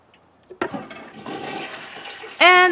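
A toilet flushes in The Sims video game after a Sim uses it. A sharp click is followed by a rushing, gurgling swirl of water, close and loud, then a bright chime-like tone at the end.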